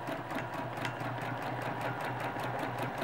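A sewing machine stitches quilting along a feather design, its needle pumping in a fast, even rhythm with a steady motor hum, close and continuous throughout.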